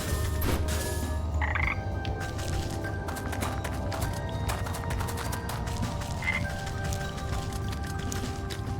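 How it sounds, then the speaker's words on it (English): Frog in the video game Wytchwood croaking in a steady, rapid stream of clicking calls over continuous background music, with a couple of brief chirps above. "Another frog."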